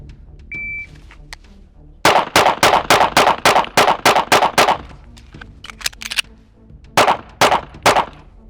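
Handgun fired rapidly on a range after a shot-timer beep: a quick string of about ten loud, close cracks, a pause for a magazine change, then three more shots.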